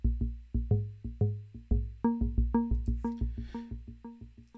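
Ableton Operator synth sequence run through the stock delay effect: a steady run of short, plucky harmonic notes with echoes trailing behind each hit, clear and upfront with no voices.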